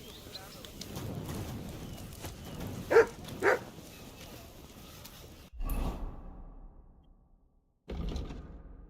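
Dog in the medieval role-playing game Kingdom Come: Deliverance 2, two short barks close by followed by shuffling and a door-like thud, with someone talking over the scene.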